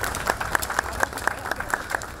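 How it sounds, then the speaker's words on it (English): A crowd applauds at a Canada Day 2017 gathering at a mosque. The short burst of clapping is steady and lively, with individual claps landing in a loose, regular beat. "so I'll give them a round of applause."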